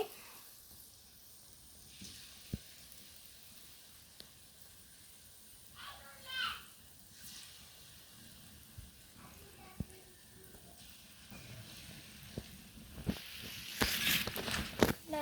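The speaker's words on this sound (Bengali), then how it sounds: "আমি এরকম সাইজ করে সবগুলো ভেজে নিচ্ছি।" Palm fruit fritters frying in oil, mostly a low, quiet sizzle with scattered soft clinks and stirring, swelling into a louder, denser crackle near the end.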